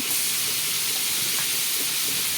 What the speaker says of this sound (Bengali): এখন খাসির মাংসটাকে বসিয়ে দেওয়া হলো দেখতে থাকো সবাই